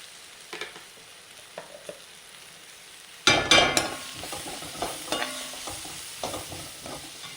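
Onions softened in a pan with chili powder added for paneer tomato chili, stirred with a few light taps at first, then a sudden loud sizzle that keeps crackling under ongoing stirring and scraping.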